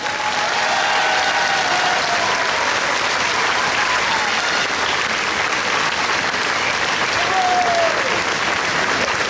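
A crowd at a town festival in Bessan claps loudly and continuously, a dense outdoor wash of applause with a few faint whistles or calls rising above it.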